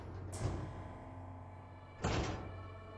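A sliding door in an old inn eases open slowly: two soft scraping swishes over a low steady hum, with no talking.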